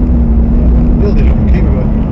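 A Lamborghini Huracan engine hums steadily as the car accelerates out of a corner on an airfield circuit, heard as an in-car drone beneath a voice talking.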